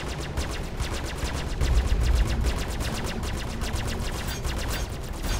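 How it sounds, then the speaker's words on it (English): Rapid automatic spaceship gunfire in Star Citizen Alpha 2.2 on PC, a dense, continuous rattle of shots with a heavier burst partway through, loud and steady with no talk over it. "Someone's shooting at us, though."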